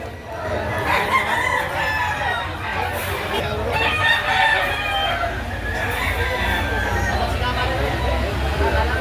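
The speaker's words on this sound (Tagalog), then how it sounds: "Dalawang manok ang binibenta." Chickens clucking and a rooster crowing amid a busy crowd at a chicken market in Lipa City, Batangas, with people chattering in the background throughout.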